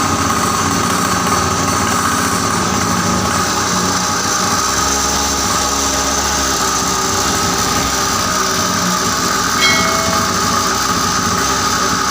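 Yamaha XTM motorcycle with a double exhaust idling after ignition adjustment, a loud, steady, rough engine drone running continuously up close with no break.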